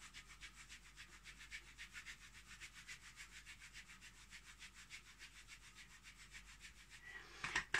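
Hands rub the kidney area of the lower back during Chinese self-massage, a steady rhythmic swishing of palm on body or clothing repeating about twice a second, soft and close, with no talk.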